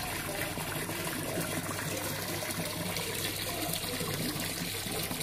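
A small waterfall splashing into a koi fish pond, a steady close rushing and gushing of water that runs unbroken and fairly faint throughout, with no voices.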